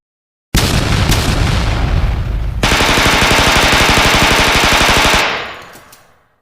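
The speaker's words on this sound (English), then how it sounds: "they unleashed a deadly barrage onto Green lines" A battlefield barrage of rapid gunfire and heavy booming explosions roars loud and continuous, with a dense rattling burst in the middle before the din fades out.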